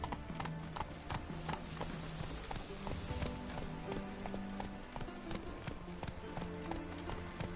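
A horse gallops in The Witcher 3, with a steady rhythmic clip-clop of hooves, close and continuous, over game ambience.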